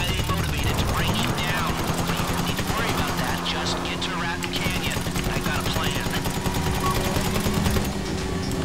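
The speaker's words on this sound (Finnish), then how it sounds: "Ammutaan helikopteri alas." Rapid bursts of gunfire aimed at a helicopter in Grand Theft Auto V crackle continuously over a rotor drone, with a voice talking underneath.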